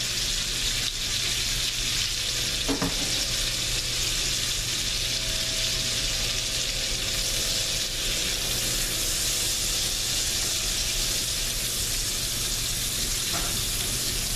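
One large diced onion fries in bacon grease, a constant broad sizzle with a low steady hum underneath and a couple of faint clicks from a utensil, holding level the whole time with no one talking.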